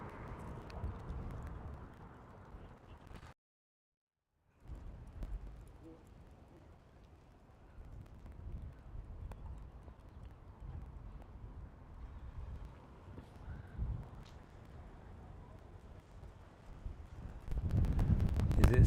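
Gusty outdoor wind buffeting a microphone fitted with a fuzzy windscreen, a steady low rumble that swells and fades, with a short dead gap near the start and a stronger blast at the end; a voice speaks faintly underneath.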